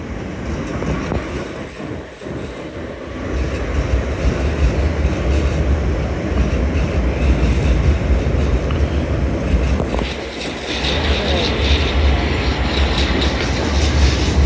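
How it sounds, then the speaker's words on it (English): Pair of Class 375 electric trains departing London Bridge station on a service to Ramsgate via Canterbury West, a loud close rumble of wheels and traction building and rolling steadily past with rhythmic rail clatter. "departing now is a dual pair of 375s working a service to Ramsgate via Canterbury West"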